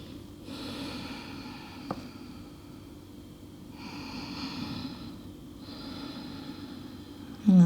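Slow, deep breathing during a gentle yoga stretch for the neck and shoulders. Three soft, airy breaths come close to the microphone over a faint steady hum, with a small click partway through and no talk.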